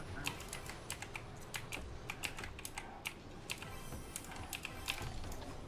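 Computer keyboard keys clattering during a Rocket League match, a dense irregular run of sharp close clicks over a soft steady background hum.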